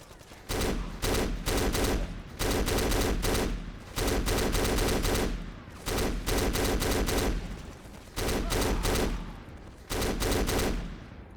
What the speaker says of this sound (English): now it's another mounted machine gun.